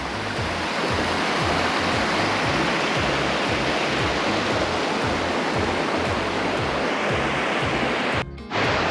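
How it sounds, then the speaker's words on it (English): Rushing water from a waterfall in a canyon below a catwalk, a steady broadband roar that holds loud and continuous throughout with low rumbling underneath, dropping briefly near the end. "A little bit of a waterfall down there."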